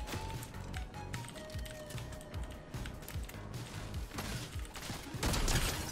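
Ranger shotgun fire during a Fortnite battle, with a busy stream of sharp clicky gameplay transients and a louder, fuller blast near the end, close and dense with no voices.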